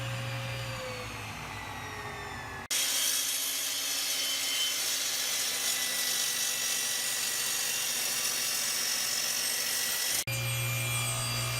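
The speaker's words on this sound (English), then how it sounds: "Here's an example of what a properly adjusted table saw can do" A properly adjusted table saw rips through exotic wood for a bench vise build, a loud, steady high whine of blade cutting stock sustained for about seven seconds between quieter stretches of the saw idling.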